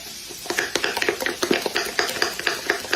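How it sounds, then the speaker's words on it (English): A fork whisks an egg in a bowl for cornbread batter, giving quick, rhythmic clinking taps against the bowl, close and clear, roughly four strokes per second, with no talking. "do your egg around like that real good. Beat it up good."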